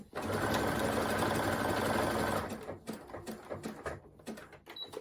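A sewing machine stitches a side seam on a striped T-shirt, running in a steady loud burst for about two seconds, then stopping to leave quiet handling noises and brief clicks.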